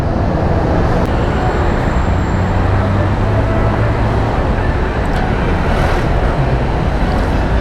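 Continuous road traffic on a congested service road near Bicutan at midday, with a steady broadband rumble of idling and creeping cars, buses and motor vehicles close by, with no voices.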